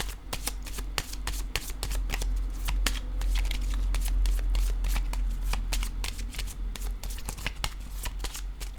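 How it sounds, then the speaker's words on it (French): Tarot cards riffle and shuffle in quick repeated bursts for several seconds, their sharp papery clicks close and fairly loud over a steady low hum, with a card set down among them. "Je vais déposer une carte rose ici pour connaître l'état de ce lien."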